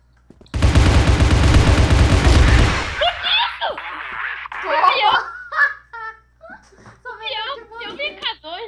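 K2 rifle fire in the Crossfire video game, a loud sustained automatic burst lasting about two seconds, followed by overlapping excited talk and laughter from nearby voices.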